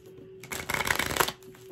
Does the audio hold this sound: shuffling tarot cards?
yes